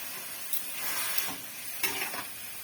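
Scraping and stirring of banana stem and lentils with turmeric and water in a pan over a steady sizzle, with a couple of sharper utensil scrapes; close and fairly quiet, no voices.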